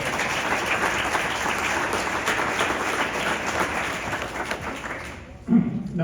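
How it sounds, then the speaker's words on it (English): Audience applause at an athletic hall of fame induction ceremony, a dense, steady clapping that fills the room for about five seconds before fading, followed by a brief murmur. "I think we owe Ron a nice hand of applause for his dedication"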